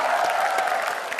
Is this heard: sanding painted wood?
no